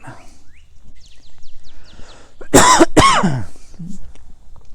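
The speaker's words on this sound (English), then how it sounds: "No, that's not a COVID cough." A couple of sharp, close coughs in quick succession, loud against a quiet room with faint background sounds.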